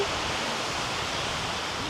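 Steady broadband wash of shallow sea water lapping at the edge of a sandy beach at low tide, a constant close hiss with no distinct wave breaks and no talking.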